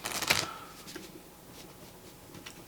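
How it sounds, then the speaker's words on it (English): A quick riffle of cards snaps at the start, then a few soft, faint flicks and taps follow in a quiet room. "and we can give it a quick shuffle,"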